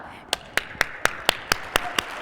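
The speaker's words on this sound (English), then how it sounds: "Clap madly for each other" An audience at a medical improvisation workshop claps in sharp, evenly spaced beats, roughly four per second, crisp and moderately loud against faint room murmur.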